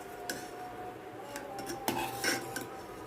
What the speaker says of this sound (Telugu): మంచిగా కలుపుకోవాలి సాల్ట్ కరిగేంత వరకు.